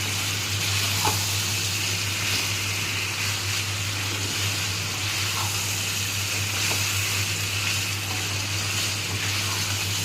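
Soybean chunks sautéing in oil in a pan for a vegetarian soybean curry, a steady soft sizzle with faint stirring scrapes throughout.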